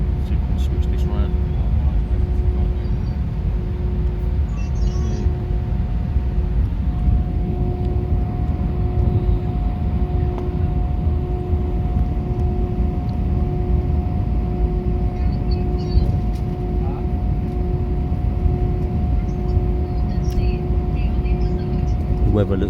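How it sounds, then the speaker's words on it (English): Steady, loud cabin roar of an airliner on a short flight out of Cyprus, preparing for takeoff, with a constant engine hum and tonal whine that holds throughout without rising to a clear peak. "Yeah, we're ready for takeoff."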